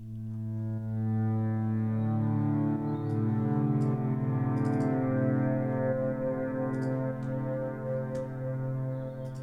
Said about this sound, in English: The last sound in this track is a pad from Chris from Science of Life